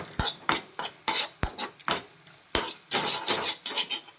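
Eggs beaten in a bowl for egg fried rice: a utensil strikes the bowl in about fourteen quick, sharp clinks, spaced irregularly and then speeding into a faster burst, close and clear with no talking.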